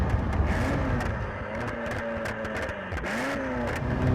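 Ferrari F40 engine accelerating at half throttle in fourth gear, a steady loud in-cabin drone with rising harmonics that dip briefly near the end and climb again.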